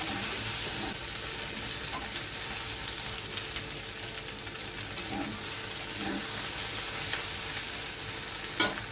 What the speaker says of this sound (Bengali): মাঝে মাঝে একটু খুন্তি দিয়ে ভেন্ডিটা নেড়ে নেব, না হলে কড়াইয়ের নিচেটা লেগে যেতে পারে